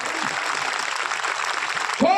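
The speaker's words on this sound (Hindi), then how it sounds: "बजाइए जोरदार ताली जिसके अंदर खुदा की आत्मा है।" Applause from a church congregation at a Hindi-language worship service, a dense, steady wash of many hands clapping throughout, with a voice rising over it at the very end.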